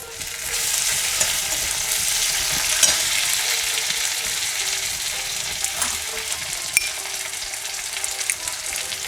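Chopped onion and tomato sizzle and fry in a pan as they are stirred, a steady bright crackle with occasional scraping knocks, close and continuous, with no talk.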